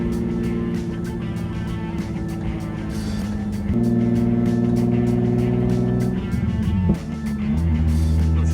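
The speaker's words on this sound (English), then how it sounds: "Definitely rattles a bit, the exhaust." A VR6-swapped MK1 Volkswagen Rabbit drives along with a rattling exhaust, a steady in-cabin engine drone that shifts in pitch as it accelerates, with ticking rattles throughout.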